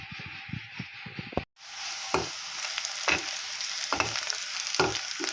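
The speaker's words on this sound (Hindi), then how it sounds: "तेल डाल को हूँ, प्याज डाल को भून लेना, करिया पत्ता भी डाल को हूँ, राया भी डाल को हूँ।" Onion hits hot oil with curry leaves and mustard seeds, and a sudden loud, steady sizzle bursts in after a few soft taps, then crackles on close and continuous with occasional spits.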